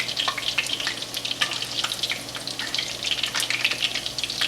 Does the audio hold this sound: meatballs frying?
yes